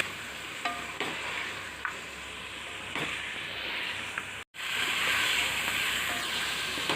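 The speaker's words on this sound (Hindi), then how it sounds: "अब हम इसमें से यखनी में से जो हमने मटन के पीसेस निकाले थे वो इसमें शामिल कर देंगे और इसको भी कुछ देर भून लेंगे" Mutton pieces from a yakhni broth are fried with ginger garlic paste for a Lucknowi pulao, giving a steady close sizzle broken by occasional spoon scrapes, with one brief dropout midway.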